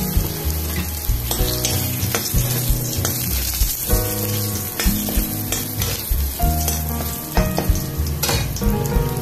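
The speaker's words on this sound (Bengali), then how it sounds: "এই তেলের মধ্যে আমি তরকারিগুলো একটু দিয়ে দিচ্ছি। প্রথমে আলু ছাড়লাম," Potatoes fry in hot oil with a loud, close sizzle, broken by rhythmic scrapes and clatters of stirring in the pan, with no voices.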